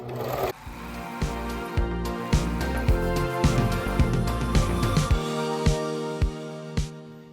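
A sewing machine runs a multi-step zigzag stitch attaching elastic to scalloped lace for underwear, a steady close mechanical hum with a regular knocking beat of the needle, stopping briefly near the end.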